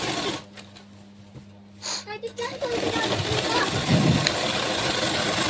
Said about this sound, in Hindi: सीधे साइड से हम सिलाई लगा रहे हैं।